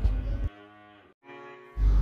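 A Limousin cross bull with metal-coloured markings gives one long, loud, close moo that rises, breaks briefly and resumes, with heavy low rumbling noise before and after.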